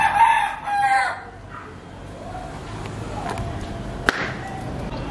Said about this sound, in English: The chicken is a chicken.